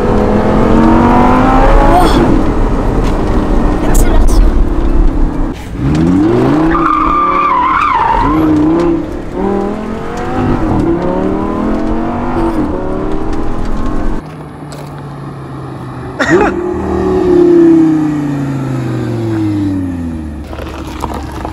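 A Lamborghini revs and accelerates hard with tire squeal and skidding, loud and close, its engine pitch sweeping up and down in repeated bursts over about twenty seconds.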